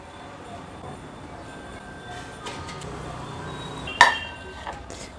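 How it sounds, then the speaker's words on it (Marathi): Potato and spinach rolls are set one by one into a metal strainer, with a soft background hum and light handling noise, then a single sharp metallic clink near the end, close by. "एक एक करून हे रोल मी ह्या चाळणीमध्ये ठेवते"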